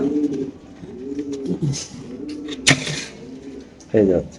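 Red fancy pigeons give repeated soft, throaty coos close by, several rolling calls in a row with a few flutters, while people talk over them.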